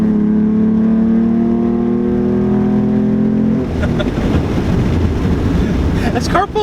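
A 2016 Ford Mustang V6 fitted with a Roush axle-back exhaust accelerates hard, its engine tone climbing steadily under loud wind rush, then dropping into a dense roar as it shifts, recorded from inside the car.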